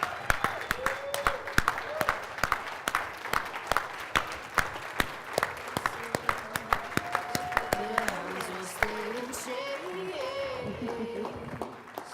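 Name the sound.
audience applause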